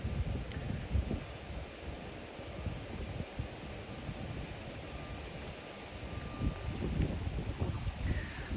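Wind gusts outdoors buffet the microphone in a continuous low, rumbling roar that swells and eases in uneven surges, with no voices.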